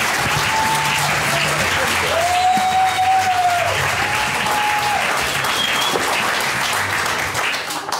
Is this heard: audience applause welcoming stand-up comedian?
yes